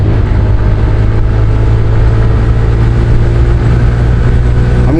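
A TVS Raider commuter motorcycle engine runs loud and close for the whole stretch, a steady low droning rumble with no clear rise or fall in revs.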